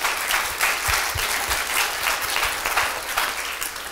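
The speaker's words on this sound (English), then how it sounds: "Give a round of applause." Audience applause at an entrepreneur leadership event styled as a Shark Tank night, steady and full with dense clapping that holds for the whole stretch, moderately loud and close, without talk over it.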